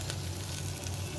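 Ginger garlic paste sizzles in a hot pan for chicken wings, a brief, steady, close crackle with no talking.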